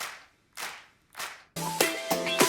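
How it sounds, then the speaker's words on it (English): A gang claps sample in a pop music track, three crisp layered claps ringing out alone, then a fourth clap leading into a busy musical section where more claps hit over the beat. "Also, I got our gang claps happening here."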